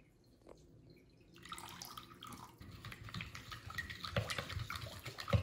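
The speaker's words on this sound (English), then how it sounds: "So, I'm gonna pour." Liquid poured into a bowl of egg, sugar and condensed milk, a soft rising splash and trickle that grows steadily louder and fuller over several seconds, close and alone.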